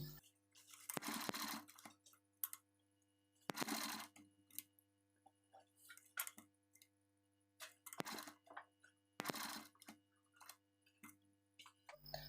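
A sewing machine stitches lace onto a sleeve in short bursts of rapid mechanical whirring, several separate runs starting and stopping, with quiet ticks and clicks between them and no speech.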